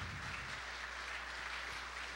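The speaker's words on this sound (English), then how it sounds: "You simply stand up and people start to applaud" A church congregation applauds in a brief, steady patter of many hands clapping, filling the room evenly for about two seconds with no talk over it.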